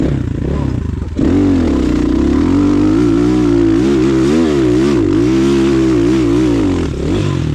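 A Rottor Bronx 300 Chinese enduro motorcycle climbs a hill, its engine surging from a lower note into a loud, sustained, wavering rev with pitch rising and dipping as the throttle works, close and with no talk.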